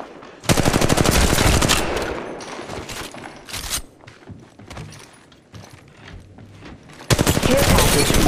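Rapid automatic gunfire in the video game Apex Legends Mobile: dense, loud bursts of shots at the start and again at the end, with scattered single and shorter volleys between, close and sharp.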